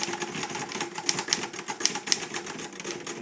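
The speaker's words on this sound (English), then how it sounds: "So, Dave, go ahead and just type to the margin." A Woodstock manual typewriter, slightly sticky and cold, typing out to the margin stop: a steady run of crisp close keystrikes with a few sharper clacks, no voices.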